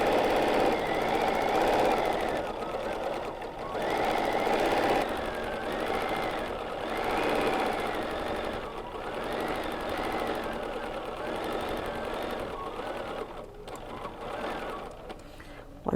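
A BERNINA sewing machine stitching steadily while free-motion quilting placemats, a fast continuous mechanical buzz that speeds up and slows in waves, close and fairly loud with no talking.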